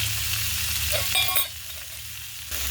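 Oil sizzling in a pan while egg cutlets fry, a steady hiss with a brief stir or scrape in the middle, then the sizzle drops quieter for a moment before swelling again.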